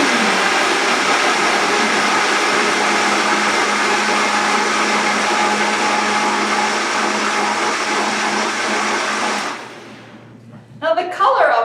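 A blender purees creamy tomato soup in a steady, loud, continuous whir that runs for about nine seconds, then cuts off abruptly, leaving faint kitchen clatter.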